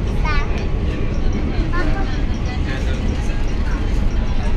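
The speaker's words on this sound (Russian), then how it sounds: "Вообще приехал поезд," A train pulls into a station in Malaysia with a loud, continuous rumble and squealing brake tones, while people talk nearby over the noise.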